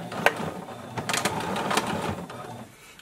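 A sewing machine stitches jersey fabric for a face mask in short, uneven bursts of whirring and mechanical clicking, close by, trailing off toward the end.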